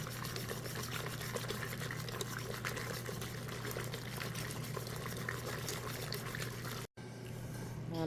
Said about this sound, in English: All the steak are in, and it's just still simmering.